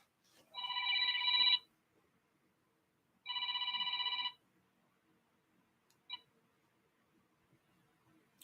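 A telephone rings in two clear electronic bursts about two seconds apart, loud and close in an otherwise quiet room, followed by a brief faint blip.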